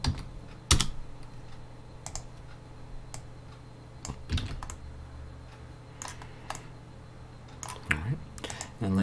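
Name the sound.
computer keyboard typing shortcuts in Blender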